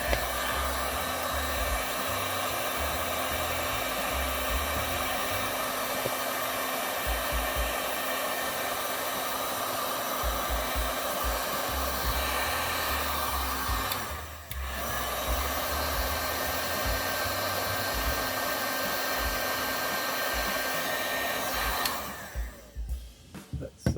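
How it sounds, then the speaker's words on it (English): A heat gun blows hot air to soften adhesive on roof rack foundation parts, a steady loud whirring rush that runs continuously with one brief dip midway before winding down at the end. "with a little bit of heat from the heat gun"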